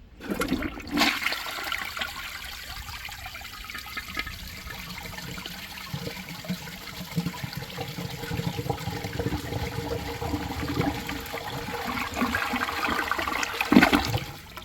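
A 1997 American Standard Savona one-piece toilet flushes with a sustained rushing swirl of water, fairly close and steady for several seconds, ending in a gurgling refill surge, with no voices.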